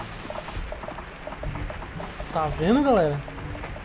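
Steady rain hisses throughout in the video game Survivalcraft 2, with a low rumble of thunder underneath, while someone talks over it.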